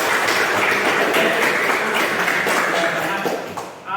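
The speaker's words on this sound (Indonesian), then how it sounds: "Kita beri tepuk tangan dulu buat" Applause from an audience at a teaching session, dense steady clapping that holds for about four seconds before thinning out at the end, with faint voices mixed in.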